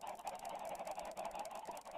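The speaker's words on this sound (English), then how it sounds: "I just have all these chickens down here in this little hole." Minecraft chickens packed together in a small pit in the FTB Revelations modpack make faint, continuous overlapping clucks and honking squawks at low volume.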